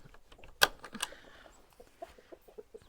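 Backyard homestead chickens clucking close by, a sharp loud squawk followed by a string of short, soft clucks and murmurs at irregular intervals.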